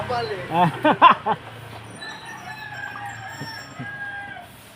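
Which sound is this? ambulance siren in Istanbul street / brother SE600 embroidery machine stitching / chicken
chicken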